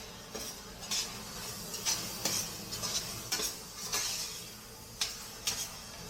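Cashews frying in a pan for butter chicken gravy, a low sizzle broken by repeated spoon scrapes and clinks against the pan, close and moderately quiet.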